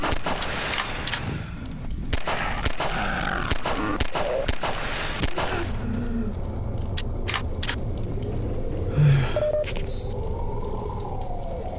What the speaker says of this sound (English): Those first few shots were just pure panic.